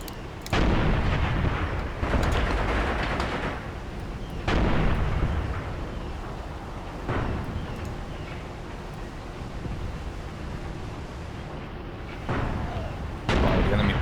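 Tank guns boom repeatedly in a Tunisia 1943 desert tank battle between Panzer III and allied tanks: loud, heavy blasts spaced a few seconds apart, each trailing into a rumbling decay, with no talking.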